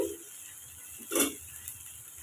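Spices and grated ginger are sautéed in a pan for a fish curry, with a steady soft sizzle and one brief louder stirring scrape in the middle.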